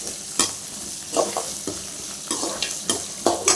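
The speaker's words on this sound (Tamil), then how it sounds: "அடுத்தது வெங்காயம், தக்காளி, பூண்டு எல்லாம் ஒன்றா போட்டு வதக்கணுங்க" Onion, tomato and garlic sautéing in oil in a kadai, with mustard seeds already added, make a steady sizzle broken by sharp spoon scrapes and stirs every second or so, close and free of speech.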